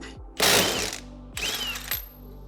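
A ratchet wrench loosens a rear wheel stud on a Camaro wheel hub, with two loud, close bursts of rapid clicking ratcheting separated by a short pause.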